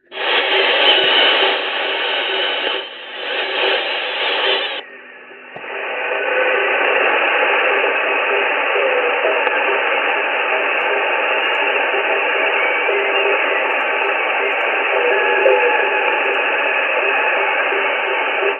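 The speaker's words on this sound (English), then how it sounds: "they're jamming Sound of Hope from Taiwan" Fire Drake jamming broadcast over Sound of Hope from Taiwan on shortwave radio, a loud steady wall of hissing, buzzing music-like noise with a brief dropout near five seconds before resuming steadily.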